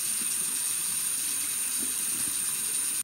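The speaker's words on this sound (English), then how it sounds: "We're going to actually just turn the water on, take the band, just run it through the water here" Tap water runs steadily into a sink as a rubber band is rinsed under the stream, a constant close hiss and splash that stops abruptly at the end.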